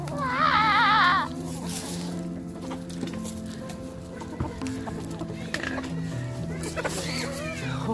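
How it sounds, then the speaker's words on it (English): Hungry chickens cluck and squawk loudly in a farmyard coop, a sharp burst of calls at the start and then scattered clucks continuing under people talking. "Crazy, hungry, evil chickens turn to sweet, gentle, regular chickens"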